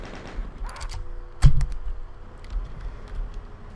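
Chaingunner enemies fire in DOOM's Plutonia Experience, a single sharp, loud shot standing out from quieter scattered rattling bursts over a low rumbling game backdrop.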